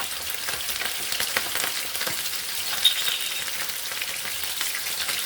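Dormers, traditional British meat-and-rice rissoles, fry in a pan with a steady, close sizzle and crackle that holds throughout, with small pops and no voices.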